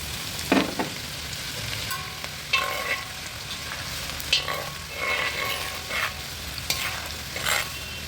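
Garlic fries and sizzles in hot oil in a pan for Cantonese chicken, a steady loud crackle broken by several sharp stirring scrapes.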